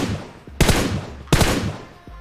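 Gunfire in a battle royale video game: two loud, sharp shots spaced under a second apart, each trailing off in a short echoing tail, with no voices.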